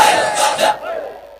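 A crowd at a religious gathering roars a loud collective slogan chant for about three-quarters of a second, then it fades into a lower lingering murmur.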